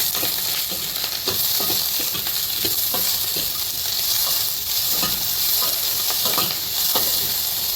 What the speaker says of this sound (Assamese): মিডিয়াম ফ্লেমত অকণমান এইখিনি ভাজি ল'ম